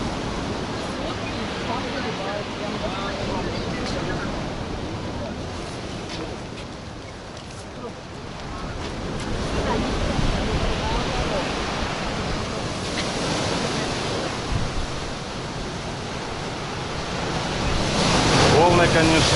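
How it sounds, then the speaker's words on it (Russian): Strong storm waves crash against a pier and groyne on the Alushta seafront, a continuous loud roar of surf with gusty wind noise on the microphone, swelling louder toward the end; voices talk faintly at times. "вот там прямо такие волны сильные разбиваются от пирсы"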